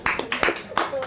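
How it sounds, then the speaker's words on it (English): A brief round of hand claps for a chef at a meal, a few sharp uneven claps from a small group, close by, over about a second. "Round of applause to the chef."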